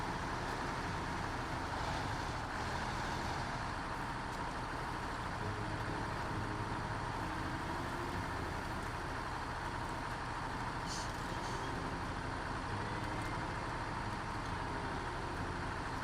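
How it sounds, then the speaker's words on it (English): Steady droning diesel engine of a Voron truck in a truck-driving video game, a continuous low rumble that holds unbroken and fairly loud throughout with no talk over it. "Saber loves this truck so much they had to copy its sounds."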